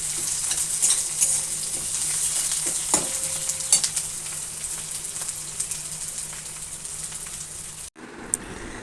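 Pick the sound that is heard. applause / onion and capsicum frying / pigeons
onion and capsicum frying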